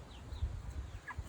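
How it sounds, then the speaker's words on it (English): Backyard chickens, including small silkie hens, cluck softly and intermittently in a fenced-off garden area, the low bird sounds close by with no talking. "so I keep my chickens"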